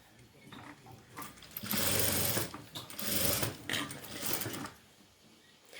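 A sewing machine stitches closed the gap left after adding elastic in a tailoring lesson, running in loud bursts with short pauses between them.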